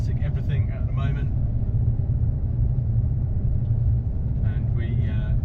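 Ferrari FF with a V12 engine heard from inside while driving, a steady low rumble running the whole time beneath brief bursts of someone talking.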